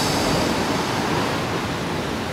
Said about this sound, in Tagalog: Kita nyo naman yung alon.